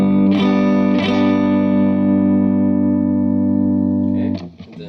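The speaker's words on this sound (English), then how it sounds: "And then here's with the Epoch Boost on." Electric guitar with P90 pickups playing a clean tone through a Catalinbread Epoch Boost preamp pedal: two strummed chords ringing out loud and sustained, then a brief scrape of string noise as the notes end.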